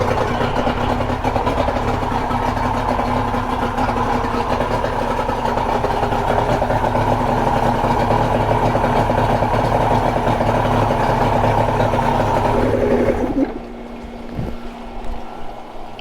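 A boat engine left idling after being taken out of storage, a loud steady rumbling drone that runs continuously for most of the stretch, then abruptly drops away to quieter background near the end.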